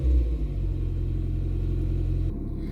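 A low, steady engine rumble from an idling Nissan Micra that is nearly out of petrol, heard close and continuous with no speech, its tone shifting slightly near the end.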